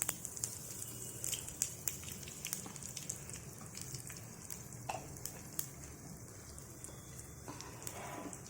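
Mustard seeds, red chilies and asafoetida frying in hot oil, giving a steady soft sizzle with scattered sharp pops and crackles throughout, close and fairly quiet.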